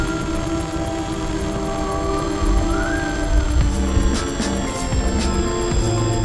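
Electric motor of an FT SeaDuck RC plane cruising at quarter throttle, a steady, thin motor whine holding level throughout, with a slight pitch rise midway and some wind buffeting; no voices.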